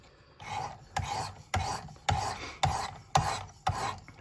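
A knife blade worked on a Work Sharp Precision Adjust sharpening system, seven evenly spaced rasping strokes about half a second apart, close and quiet, with no talk.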